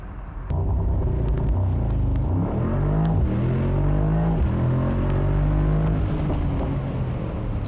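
A new Mercedes-AMG SL63 engine roars loudly as it accelerates hard from standstill to 100 km/h, rising in pitch through the gears with a deep rumble.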